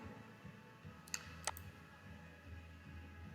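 Two sharp mouse clicks, about a third of a second apart, over a quiet hum from someone working in Autodesk Inventor CAD software.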